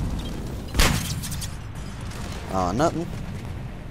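A frag grenade goes off in the multiplayer mode of the Mass Effect 3 video game: one sharp, loud explosive boom with a short tail, followed shortly by someone talking over the game's background noise.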